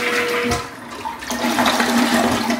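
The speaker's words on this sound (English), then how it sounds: "it's just the sound the toilet makes" A toilet flushes in an early 1900s hospital converted into a hotel, with a loud, close rush of water swirling and draining continuously for about three seconds and no voices.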